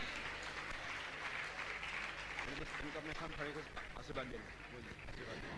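A seated audience at a Jain religious discourse breaks into steady, sustained applause, a dense wash of clapping that stays even throughout, with a voice speaking over it.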